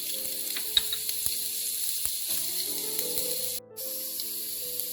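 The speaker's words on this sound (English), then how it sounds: "To the heated oil, I'm going to add in ginger and garlic." Ginger and garlic sizzle in heated oil with a constant bright crackling hiss, punctuated by faint pops and a soft steady hum underneath, with no one speaking.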